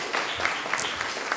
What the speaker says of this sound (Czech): ten tu není, i tak mu tleskáme